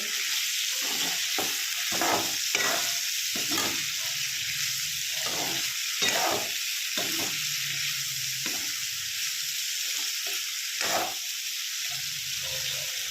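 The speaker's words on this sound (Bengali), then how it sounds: "একটু নেড়ে চেড়ে নেবো এটা" Broad bean kasundi frying in a pan gives a steady, bright sizzle, while a spoon repeatedly stirs and scrapes through it in short, irregular strokes close by.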